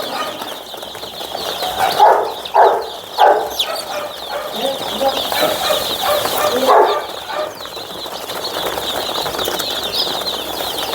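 Many chicks chirp continuously nearby on a poultry farm, a dense high twittering broken early on by a few louder bursts of shuffling noise.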